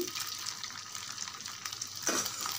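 Pongadalu batter frying in hot oil, a steady bright sizzle throughout with a brief louder burst of crackling near the end.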